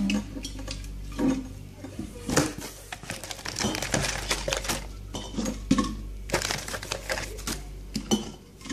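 Sweet dates being placed by hand into a jar, with close clinks, knocks and crinkly rustles coming in uneven busy clusters and no talking.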